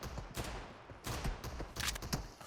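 Desert Eagle pistol shots in the mobile game PUBG Mobile, several sharp loud bangs in quick irregular succession over about two and a half seconds.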